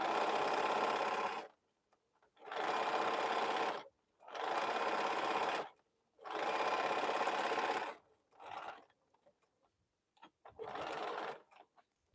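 A sewing machine stitches around a bowl cozy in white thread, running in four long steady bursts of about two seconds each, then two shorter runs with pauses between them.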